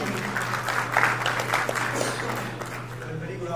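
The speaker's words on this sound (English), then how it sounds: "Once more, a huge round of applause," An audience applauds at a blockchain summit in Gujarat, a steady wash of clapping filling the hall for several seconds, with a low hum underneath and a faint murmur of voices.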